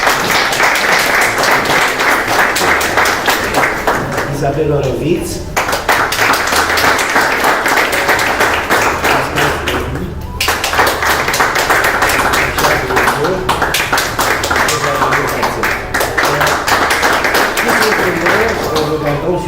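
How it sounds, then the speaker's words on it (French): Audience applause at the opening of an international exhibition of graphics, photography and sculpture, loud rhythmic clapping from a crowd in bursts with short dips, and a voice speaking over it at one point. "Des applaudissements, s'il vous plaît."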